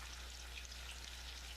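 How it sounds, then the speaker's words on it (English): Fish fry in butter in a pan, a faint, steady crackling sizzle that runs evenly throughout with no voices. "And they're frying in butter."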